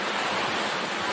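Joktadin waterfall in remote Kanchanaburi, Thailand, pours in a loud, constant roar of rushing water, broad and unbroken with no voices over it.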